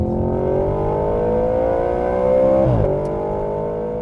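A 2013 Audi RS 5 Coupe engine drones loudly on a track in dynamic mode, rising steadily in pitch as it accelerates, then dropping sharply on a gear change before climbing again.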